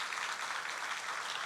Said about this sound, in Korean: 우리 위로의 박수 하십시다